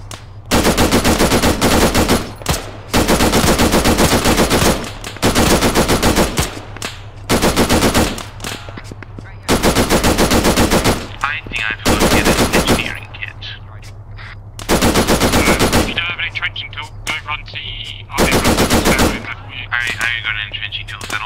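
Loud bursts of machine gun fire in Arma 3, long sustained volleys separated by short pauses, close and dominant, with quieter background game noise between bursts.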